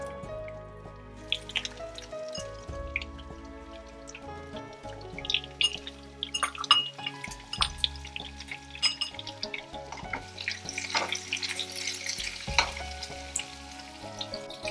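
Chopped shallots fry with mustard seeds, urad dal and curry leaves in hot oil, giving a close, continuous sizzle full of crackles and pops, with occasional stirring and no talk.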